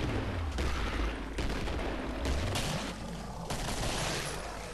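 Gunfire in the video game Killing Floor, bursts of rapid booming shots in several clusters, loud and close, with game ambience and no speech over it.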